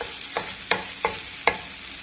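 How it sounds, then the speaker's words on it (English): A spoon stirs scallions in a pan of hot oil. Four distinct scraping strokes land roughly every third of a second over a faint sizzle, close and fairly quiet, with no voices. "And give it a stir."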